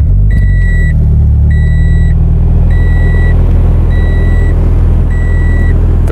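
2019 Toyota 86 TRD Special Edition idles with a loud, close, steady low engine drone, while a chime or warning tone beeps in a regular repeating pattern about five times over it.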